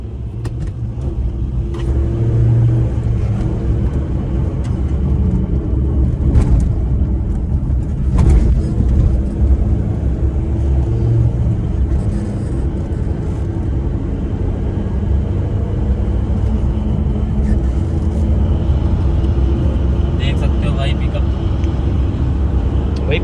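A 2004 Maruti Suzuki Zen accelerates on the road with a steady engine drone and road rumble heard from inside the car, continuous and fairly loud, while people talk over it.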